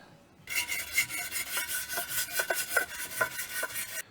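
A tire wheel is scrubbed clean before refitting, giving repeated rasping, brushing strokes in an irregular rhythm, close and fairly loud, with no voices.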